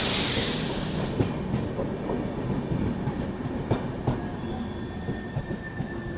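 A diesel-hauled train rolls past on an Indian Railways ghat section, a steady rumble of wagons with wheel clatter and faint squeals, loud and close throughout with no talking.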